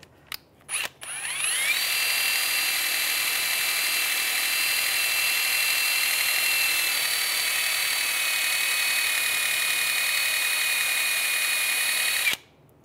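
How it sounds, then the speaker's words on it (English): Wire brush scrubbing corrosion off a rear brake part of a 2006-2009 Mercedes-Benz E350, a loud, steady high-pitched spinning whine lasting about ten seconds after a few short bursts, then cutting off. "Just take a wire brush,"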